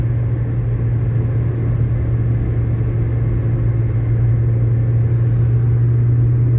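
Steady mid-range car engine drone held at raised revs with a strong low hum throughout, a manual-transmission car driven by a learner, loud and continuous with no talk.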